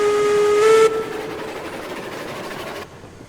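Steam whistle of a Climax geared locomotive in the Railroad Online video game, one loud sustained blast at the start that cuts off into a steady steam hiss and rolling chuff, with no talking.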